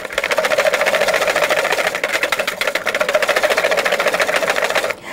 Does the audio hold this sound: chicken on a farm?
no